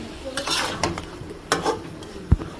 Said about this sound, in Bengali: চাল কুমড়াটা ভালোভাবে কষাবো এটা কিন্তু ভালোভাবে কষাবো